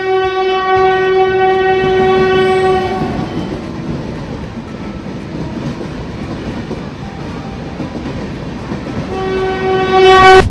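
A Mumbai local train rumbles through Thane station, with loud sustained horn blasts at the start and again near the end over the steady rolling clatter.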